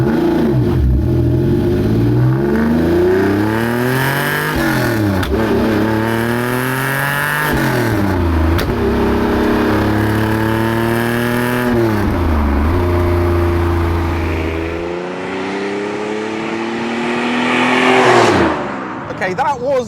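A TVR Sagaris sports car with a 4.5-litre engine accelerates along a road, its loud engine climbing through several gears with rising revs and brief dips at each shift, heard from inside the car with some talk.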